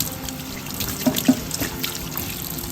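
Running water rinses a stainless steel sink in an Airstream trailer, a steady close splashing and trickling with a few brief drips and clinks.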